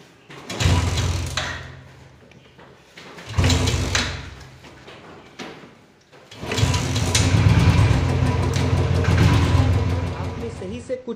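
Royal Enfield Classic 350 motorcycle kick-started from cold after ignition and kill switch are switched on: two short loud bursts of effort and engine noise, then the single-cylinder engine catching and running steadily, close to the microphone.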